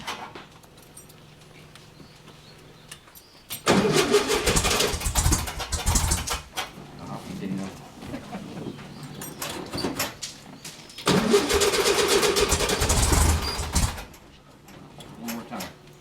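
T-bucket hot rod engine cranking and catching twice, each time a loud rough roar of a few seconds that then drops away, with quiet idle and low talk in between.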